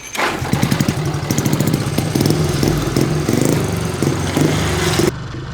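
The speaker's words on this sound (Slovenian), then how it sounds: "Medtem Ati pa mehanik pripravita motor" A motocross motorcycle engine, prepared by a mechanic, runs loud and close with a steady, buzzing drone and small throttle blips, then cuts off abruptly near the end.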